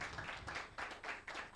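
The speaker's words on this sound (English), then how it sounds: "An improved round of applause, please" Audience applause at a formal event in Nigeria, a brief steady patter of many hands clapping, distant and fairly faint.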